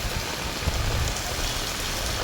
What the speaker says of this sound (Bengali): আর এখানে তো বৃষ্টির পানি পড়তেছে।